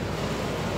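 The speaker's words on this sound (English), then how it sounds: "it is bucketing cats and dogs, pouring cats and dogs in Pulford, Chester, Cheshire, England, near Wales" Heavy rain pours steadily during a July afternoon thunderstorm in Pulford, near Chester in Cheshire, England, a dense, even hiss with no speech over a short stretch.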